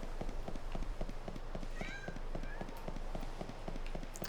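Cats in the video game Lightning Returns meow repeatedly in short, high cries over a steady, rhythmic clopping of footsteps and a constant low game background.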